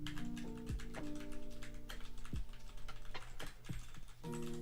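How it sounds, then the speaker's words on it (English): Rapid typing on a Royal Kludge computer keyboard, a quiet continuous stream of keystroke clicks with a few heavier key thumps, set over a soft background tone with no talking. "That's my keyboard. It's the Royal Kludge."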